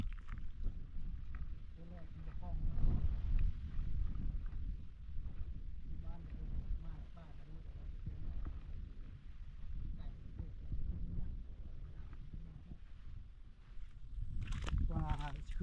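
Strong wind buffets a small boat on the water, a continuous rough rumble and gusty microphone roar throughout, with people talking over it.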